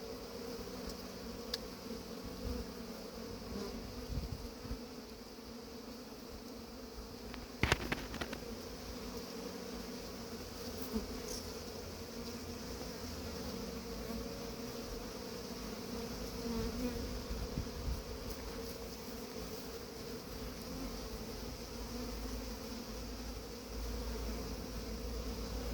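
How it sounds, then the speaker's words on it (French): Honeybee swarm humming steadily at a hive as it is poured in and settles, a continuous dense buzz throughout with a brief louder knock partway through. "j'ai versé les abeilles sur la ruche"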